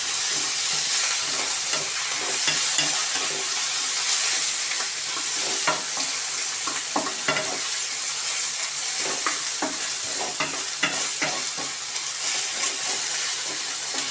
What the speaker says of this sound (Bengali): এই পেস্টটা দিয়ে একটু ভাজা ভাজা হবে।